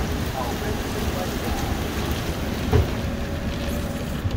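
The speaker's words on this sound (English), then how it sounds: "Hailstorm." Hailstorm pelting down in a dense, continuous hiss of impacts on surfaces, with a brief louder thump partway through, heard from close by under a darkening sky.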